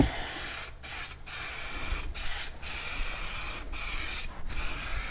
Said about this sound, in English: 3M high strength contact adhesive. It says to spray and let sit.